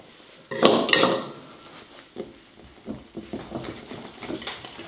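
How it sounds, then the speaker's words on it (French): Muffin batter of almond powder, flour and sugar is stirred in a bowl, a spoon clinking and scraping against the sides in a loud burst, then softer irregular taps and scrapes. "Je vais mélanger. Et je vais rajouter mon sucre également."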